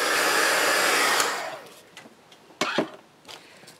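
An old hair dryer blows loudly for about a second, then shuts off and whirs down, leaving a few short knocks and rustles.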